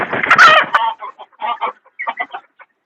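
Fighter-breed chickens on a village poultry farm cluck in a loud, dense burst at first, then settle into a series of shorter, separate clucks close to the microphone.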